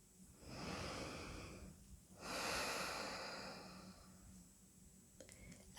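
Deep, slow breathing up close and quiet, two long drawn breaths in and out, followed by a faint click near the end.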